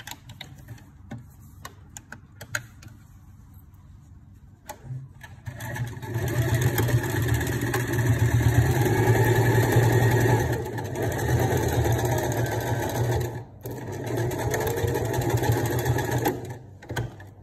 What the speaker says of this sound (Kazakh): Осы жерден осы жерге дейін тігіп аламын.